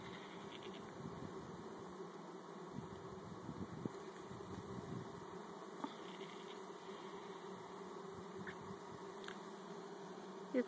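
Honeybees drone steadily as they are scraped during a hive installation, a quiet, continuous buzz with occasional nearer passes and small knocks.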